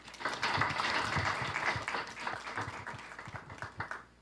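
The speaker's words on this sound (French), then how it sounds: "Sur vos applaudissements, s'il vous plaît." Crowd applause with dense, steady clapping from many hands, fairly loud and sustained, fading slightly toward the end.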